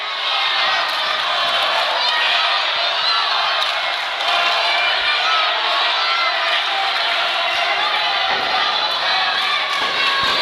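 A large indoor wrestling arena crowd at a Jerry Lawler vs Mike Orlando match roars and chatters continuously, a loud, dense wall of noise with scattered shouts and whoops rising out of it.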